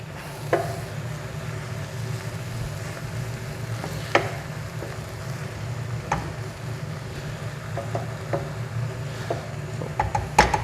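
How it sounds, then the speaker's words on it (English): Mushrooms sizzle steadily in a pan as a base for mushroom risotto, with a soft continuous fry and occasional clicks and knocks of stirring, and no voices. "So you can see the mushrooms are starting to cook away now."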